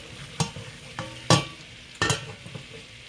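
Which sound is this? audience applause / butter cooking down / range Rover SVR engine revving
butter cooking down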